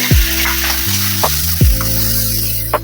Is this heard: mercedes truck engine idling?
no